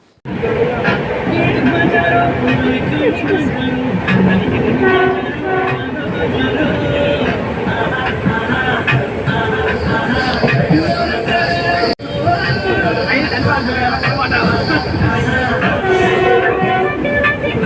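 A train rumbles along the rails with a steady, loud rolling clatter and occasional wheel squeal, while voices talk nearby inside the carriage.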